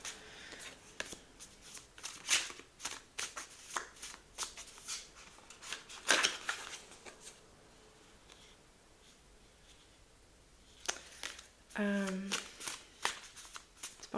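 A deck of guidance cards is shuffled in short riffling bursts, some sharper flicks among them, with a voice speaking close by throughout and a quiet pause in the middle.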